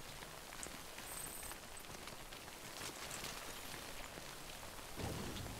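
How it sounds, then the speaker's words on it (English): Rain falls steadily in the Death Stranding video game, a constant hiss of drops with a soft rumble underneath and a slightly heavier patter near the end. "I know it's raining"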